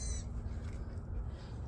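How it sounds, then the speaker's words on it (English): A bird, probably a crow, gives a faint caw outdoors in a wooded park area on a dog walk, set against steady low background noise. "And that's a bird."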